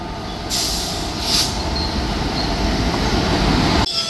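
A train rumbles past close by, wheels clattering steadily with a high metallic squeal rising briefly, and the noise cuts off sharply near the end.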